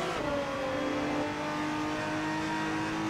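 Maserati MC12 GT1 V12 in the Assetto Corsa racing game, a dense, steady high-revving engine note with slowly rising pitch, loud and close with no talking.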